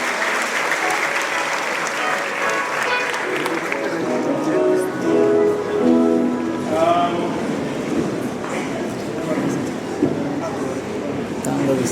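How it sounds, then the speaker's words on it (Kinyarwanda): A congregation applauds with sustained, even clapping throughout, while voices and singing rise faintly beneath the applause. "Amashyi dushimira Imana cyane."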